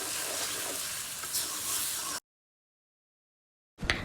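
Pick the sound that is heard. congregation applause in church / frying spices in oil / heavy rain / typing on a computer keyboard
frying spices in oil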